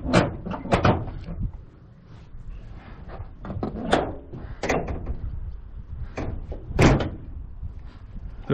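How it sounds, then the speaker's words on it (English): The hood of a 1959 Ford Thunderbird being lowered and shut, heard as a series of sharp, close metallic thuds and clunks spread across the clip, with quieter rattles between them. "Hood closes. Perfect."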